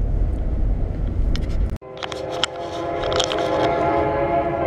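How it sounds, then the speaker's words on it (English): A train rumbles past near an old high school, a steady low roar with sustained horn-like tones after a brief dropout, loud and continuous without speech. "do you hear the trains going by?"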